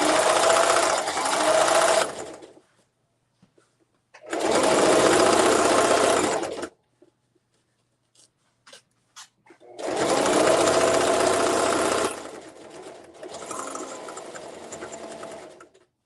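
A sewing machine stitches the interfaced side of a zippered tote bag in three loud, steady bursts of motorized whirring, separated by near-silent pauses with a few faint clicks, and a softer mechanical run trails at the end.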